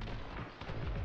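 Gunfire in the action video game The Hong Kong Massacre, a dense, loud barrage of booming shots and blasts layered into a continuous roar.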